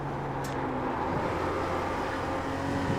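A race car engine in a racing video game drones steadily during practice laps, a dense constant roar with faint shifting tonal lines and no talking.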